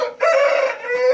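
A fighting rooster on a farm crows once, loud and close, a single sustained call standing alone.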